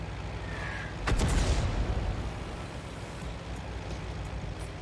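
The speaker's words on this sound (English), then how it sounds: "Here comes the machine gun artillery." A single loud artillery boom lands in a World of Tanks battle, followed by a decaying rumble and a few faint distant shots.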